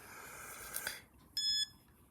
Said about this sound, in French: vous entendez un bip à chaque seconde dans les 10 dernières secondes pour le départ